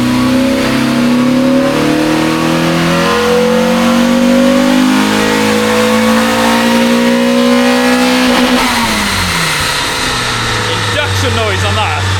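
A Renault Clio 182 with basic bolt-on modifications revs on a dyno. The engine note climbs steadily and loudly in a long pull, then drops sharply as the throttle lifts, with no talking over it.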